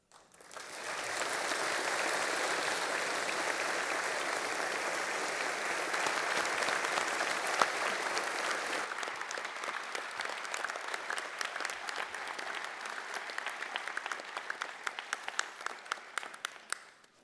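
A large audience at a Massey University graduation ceremony in Manawatū breaks into sustained applause: a thick, even wash of clapping lasting over fifteen seconds, gradually loosening into more distinct individual claps toward the end.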